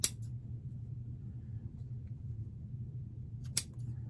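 Scissors snip through 1.5-inch ribbon while a bow is being made: one short crisp cut at the start and another a few seconds later, close and clear, with a low steady hum between them.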